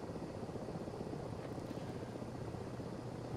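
A light helicopter in a flight simulation game, its engine and rotor producing a steady, faint broadband whir that holds constant from start to finish with no voices.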